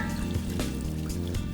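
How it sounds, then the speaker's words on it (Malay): Water pours steadily into a pot of macaroni soup with carrots and potatoes, a continuous close trickling and filling sound with no talk. "Masukkan air."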